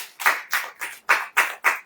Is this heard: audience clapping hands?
yes